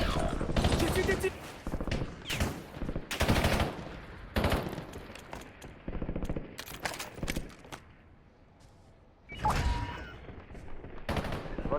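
Rapid automatic gunfire from the video game Warzone comes in repeated loud bursts separated by short pauses, with game voice announcements and some talk between volleys.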